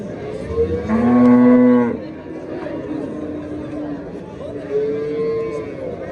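A two-month-old bull calf gives a loud drawn-out moo, then a second softer, shorter moo, while people chat nearby.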